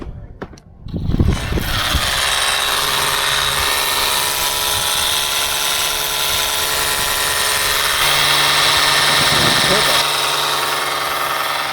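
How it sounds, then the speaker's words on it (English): A pressure washer for cleaning a boat starts up and runs with a loud, steady motor drone and hissing spray close by; brief voices are heard at first. "I'll give the power washer to Karen"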